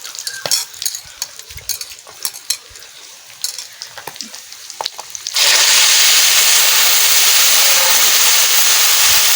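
Khoiri fish hitting a pan with tamarind water, first scraping and clinking stirs, then a sudden loud, steady broadband sizzle that roars on close-up to the end.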